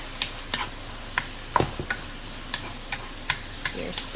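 Knorr seasoning being stirred into food in a pan: evenly spaced light taps and scrapes of a utensil against the pan over a soft sizzle, close and steady, with no talk.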